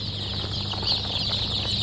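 Native chicken chicks at a hatchery cheep and peep together in a dense, shrill chorus, many tiny voices overlapping steadily and close by.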